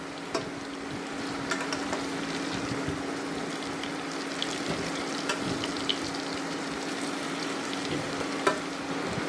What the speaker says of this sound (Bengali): সিদ্ধ করে রাখা এঁচোড়টা ভাজতে দিয়ে দিলাম